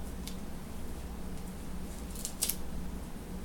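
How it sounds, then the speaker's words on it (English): Medical tape snips and crinkles faintly in a couple of quick bursts near the end, during a nasogastric tube insertion, with a quiet room otherwise. "Now I'm going to tape this to the side of their cheek."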